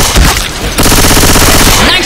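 Loud, dense gunfire in Left 4 Dead 2, with a sharp burst at the start and then a continuous rapid volley under heavy game noise.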